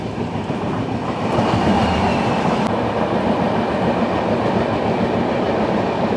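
The Kamakhya Puri Express rolls into Sevoke railway station, a steady loud rumble of wheels on rail with faint clicking of joints, heard from on board with no voices over it.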